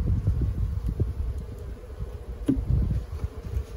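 Honey bees buzz around a long hive during a nuc installation, a low steady drone with scattered thumps and light wind noise close to the microphone.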